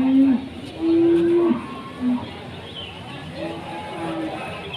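Cattle at a cattle market low in several moos: a short call, then a longer, louder moo and a brief grunt, followed by quieter lowing and general market murmur.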